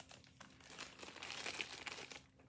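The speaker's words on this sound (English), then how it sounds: "Let me cut it open on camera just to make it real exciting." A book package is cut open, giving close, steady crinkling and crumpling of packaging with small tearing bursts, fading at the end.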